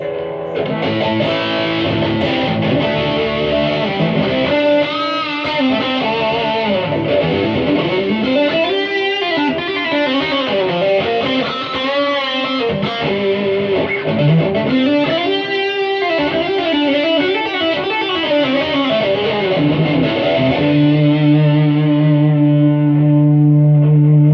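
A heavily distorted electric guitar plays on the bridge pickup, continuous sustained crunchy chords and bending notes ringing with reverb, loud and alone.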